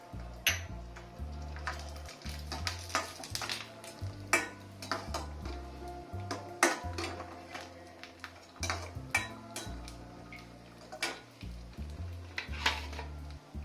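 Cashews dropped into hot ghee in a pan while making sweet pongal prasadam, with close sizzling and frequent clicks and scrapes of a spoon against the pan, no voices.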